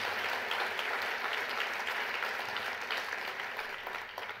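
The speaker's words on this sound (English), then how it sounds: "Give him a round of applause" Steady applause from a keynote audience at a festival, sustained, dense and fairly loud throughout, fading slightly toward the end with no voices over it.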